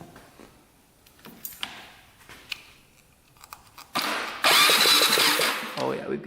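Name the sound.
quad engine ignition sparking with new NGK spark plug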